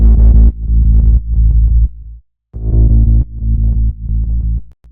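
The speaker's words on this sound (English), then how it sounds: "It's more of a sub sounding bass." A sub bass synth layer for a TRON-style theme beat plays a loud, deep sustained bassline in short repeated notes, with a brief gap of silence midway and no voices.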